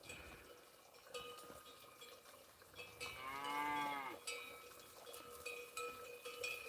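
Cattle with cowbells, the bells clinking irregularly throughout, a cow lowing once in a long, fairly close moo midway, all quiet and outdoors.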